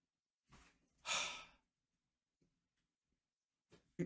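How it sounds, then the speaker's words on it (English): A single long, breathy yawn swells and fades in quiet surroundings, followed by soft breaths and small mouth sounds. "He's going to yawn again."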